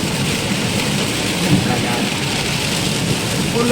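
Steady heavy rain pours down during a stormy, windy downpour on the road, a dense continuous hiss with a low rumbling undertone throughout, and faint talk in the background.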